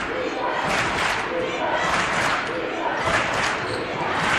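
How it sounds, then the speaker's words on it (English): A rowdy Hanover crowd chanting for defense at a girls basketball championship game, rhythmic group chanting filling an indoor gym with ball bounces beneath, while a commentator talks over it. "chanting defense now on 3 straight trips"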